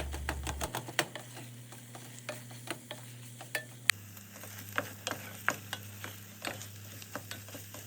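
Fish pie filling with garlic powder cooks in a pan with a low, steady sizzle, punctuated by irregular light ticks and scraping taps of stirring, close and quiet with no voices.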